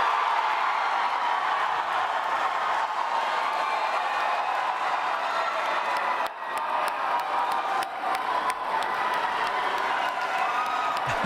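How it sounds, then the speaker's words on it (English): A crowd at a British Columbia Conservative leadership election night applauds and cheers after the new leader is announced, with sustained loud clapping and some shouts carrying on throughout. "There's a lot of excitement and clapping happening in Vancouver with this announcement"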